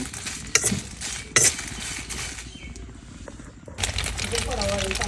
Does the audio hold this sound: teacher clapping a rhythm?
no